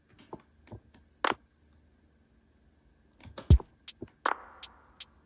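A lo-fi beat built from short, crisp clap-like hits and clicky percussion, scattered in two loose bursts with a gap between, quiet and without talk.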